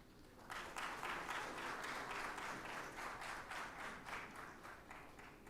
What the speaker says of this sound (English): Please join me in offering a round of applause to welcome our dignitaries